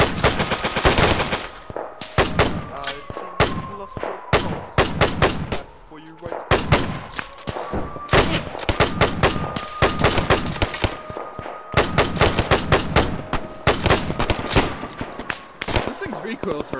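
An automatic gun fires in a war video game in rapid repeated bursts, loud and close, with short gaps between strings of shots and a steady engine-like drone underneath; voices talk over parts of the firing.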